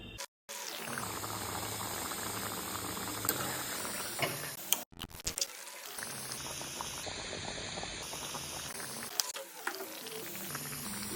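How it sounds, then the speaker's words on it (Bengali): Jackfruit curry simmering in water in a pot, giving a steady, close bubbling boil with faint rattling, briefly cut by a short gap before the boiling continues. "তো জল দিয়ে দিয়েছি পরিমাপ মতো। এবার সিদ্ধ হতে থাক"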